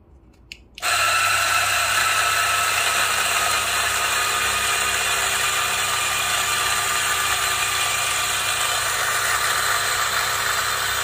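Espresso machine pump starts abruptly after a quiet moment and runs steadily as a loud, continuous buzzing drone, while shots are dialed in with DF64 and Niche Zero grinders.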